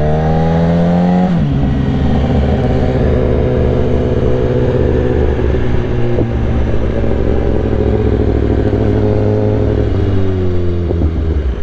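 A BMW E30 3 Series engine revs loudly and continuously from close by while driving, climbing through the gears with clear shift drops and a sustained strong drone, with no talk over it.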